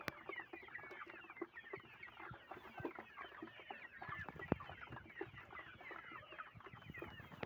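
A flock of local free-range hens cluck continuously and busily, many overlapping calls close by with faint scattered peeps, steady throughout with no talking.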